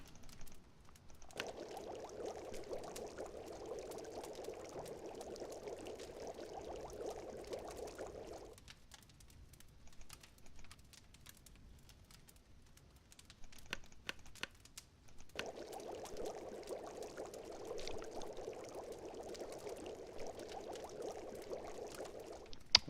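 Water being poured and collected in The Long Dark, a soft steady pouring hiss in two long stretches separated by a quiet pause, faint and close.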